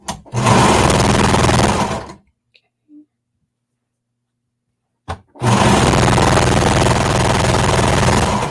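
A sewing machine stitches the side seams of a jacket. It runs in a steady, loud whir for about two seconds, stops through a quiet pause with a faint click, then starts again and runs steadily to the end.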